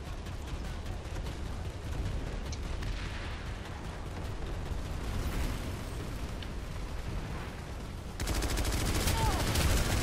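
Turret fire in the sci-fi shooter Planetside 2, a dense stream of rapid shots rattling continuously under heavy battle noise, growing louder and sharper in the last two seconds.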